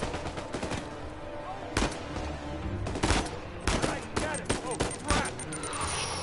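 Rapid gunfire from the video game Uncharted 4, loud bursts of shots and automatic fire cracking close, with a player's voice talking over the shooting.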